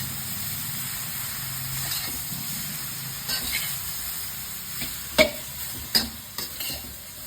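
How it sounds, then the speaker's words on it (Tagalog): Vegetables stir-fry for Japanese yasai itame with a steady, close hiss of oil. Sharper clanks and scrapes of tossing and stirring come through in the latter half. "Halo-halo lang, oh. Tambog-tambog lang ng mga gulay."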